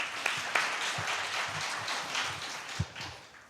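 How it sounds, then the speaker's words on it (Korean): Attendees at a guardianship conference plenary session in Korea applaud to welcome a panelist, producing a dense, steady wash of clapping at moderate volume that gradually tapers off. "박수로 환영해 주세요"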